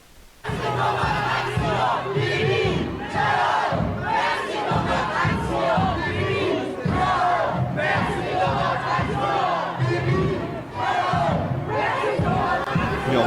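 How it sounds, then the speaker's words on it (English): A large crowd at a rally in Paris, loud sustained chanting and shouting in rhythmic bursts, dense and continuous throughout. "Not a small crowd, is it?"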